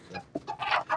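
Egyptian chickens clucking in a brief cluster of close, short calls.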